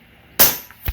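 A single .25 Avenger bullpup air rifle fires once, a sharp close crack followed by a brief decaying tail and a faint thump shortly after.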